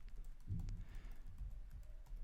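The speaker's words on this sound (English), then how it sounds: "You can also use the arrow keys to move things around" Computer keyboard keys are tapped a few times in quick, soft clicks at close range. The clicks are quiet and sit over a faint low room hum, with no voices.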